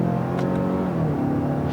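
A 2018 Mazda6 2.5T Signature's turbocharged 2.5-litre engine revs while driving, a steady droning hum from inside the cabin with a slight rise in pitch, no talk over it.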